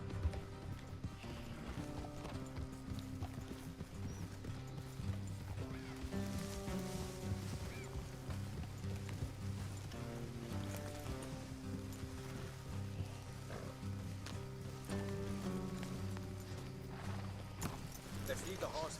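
Horse hooves clop steadily in a rhythmic trot in Red Dead Redemption 2, beneath a continuous musical score, the steps blending into the background.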